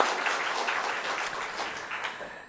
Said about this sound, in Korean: 특별히 감사의 박수를 좀 드리겠습니다.